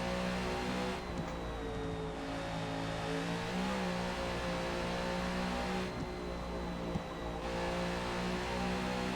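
A NASCAR stock car engine holds a loud, steady high-revving drone at Bathurst in Forza Motorsport, with a couple of brief dips in pitch as gears shift, continuous throughout with no voices.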